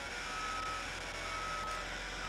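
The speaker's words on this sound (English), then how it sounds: "Oh, it's a garbage truck." Garbage truck reversing beeps, a steady electronic tone repeating over constant loud engine rumble and broadband street noise, the truck close by.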